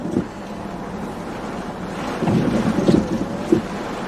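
Wind gusts buffet a car outside during a Southern thunderstorm while storm chasing, a steady near rush with rumbling surges and faint knocks, swelling stronger toward the end.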